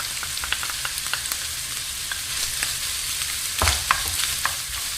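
Garlic frying in a pan with ground meat, seasoned with salt and pepper: a steady close sizzle with frequent scraping stir clicks and a louder clatter near the middle, no talking.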